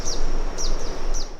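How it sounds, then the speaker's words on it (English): Birds fly past a tiny house kitchen, giving three or four sharp, high chirps spaced about half a second apart over a steady background hum, fairly close and clear. "Sometimes we're cooking here and the birds just fly right by us"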